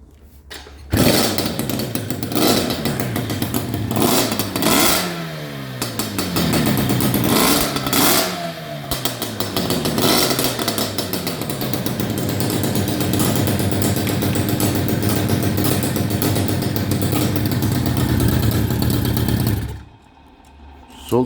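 A moped engine revs repeatedly, its pitch sweeping up and down with each throttle blip, then settling into a steady loud drone before cutting off near the end.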